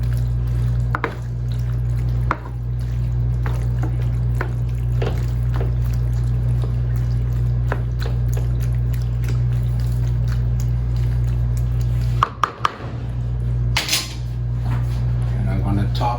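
A spoon stirring macaroni and cheese in a pot: scattered scrapes and clinks of utensil against metal over a steady low hum, with a couple of sharper knocks near the end.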